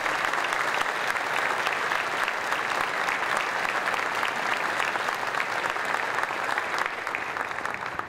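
An audience at a national road-infrastructure meeting gives a sustained round of applause for an engineer, steady dense clapping filling the hall evenly from start to finish with no break.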